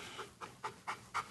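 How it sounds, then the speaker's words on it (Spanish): A dog panting in a rapid, steady rhythm of short breaths, about five pants in quick succession, fairly close and moderately quiet. "Este perro es muy peligroso."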